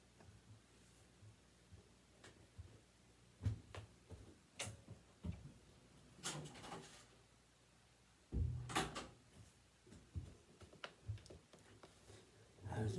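A door being turned and moved indoors, giving a series of scattered knocks, clicks and creaks with a heavier thump near the end, fairly close and moderately loud against a quiet room.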